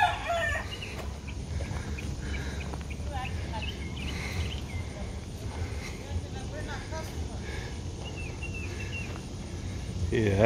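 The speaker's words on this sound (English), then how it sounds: "Somebody brought the rooster." A rooster crows and clucks among fowl, heard outdoors from a few steps away over a busy background with crickets and people talking nearby.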